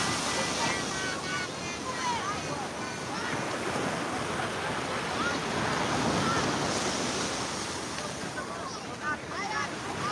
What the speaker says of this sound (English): Beach is nice today.